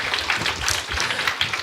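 A church congregation claps in praise during a Sunday testimony service, a dense, steady patter of many hands filling the room for a short burst, with no voices over it.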